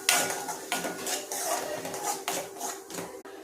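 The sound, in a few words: sautéing ground chutney in a pan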